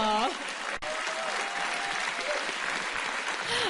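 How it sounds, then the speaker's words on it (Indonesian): An indoor crowd claps loudly and steadily for Pak Parto, a sustained round of applause with a brief speaking voice at the start. "Tepuk tangan dong buat Pak Parto"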